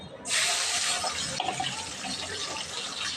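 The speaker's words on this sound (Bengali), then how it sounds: "এই যে আলুগুলো ছেড়ে দিলাম এখানে" Potatoes tumble into a cooking pot with a sudden loud splashing, sizzling rush that stays steady and bright for about three seconds, with a second jolt partway through as more pieces go in.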